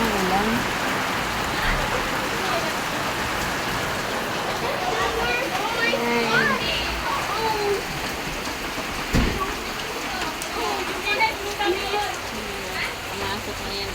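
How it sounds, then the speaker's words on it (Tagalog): Heavy rain with wind pours steadily during flooding, a dense, continuous roar of water close by throughout, with faint voices and a few brief knocks mixed in. "tuloy pa rin ang ulan."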